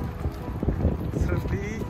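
Sea wind blusters at a fishing spot on the shore in Dubai, a steady rough rumble of gusts against the microphone with faint water movement underneath.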